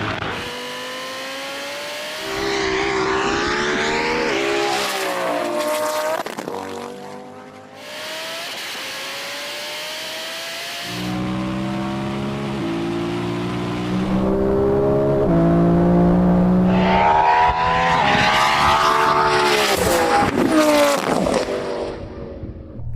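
A Xiaomi SU7 Ultra electric car launches and accelerates hard, its motor whine climbing in pitch through several loud, close runs with brief pauses, and tires squeal now and then.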